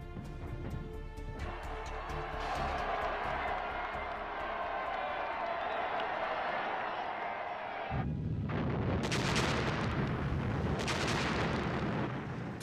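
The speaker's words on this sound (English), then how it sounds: "Stalin ordered 12 124-gun salvos and a barrage of fireworks in Moscow's Red Square." Artillery guns fire celebratory salvos in Moscow's Red Square, heard as a dense, booming roar of repeated blasts that thicken into a heavy, continuous barrage.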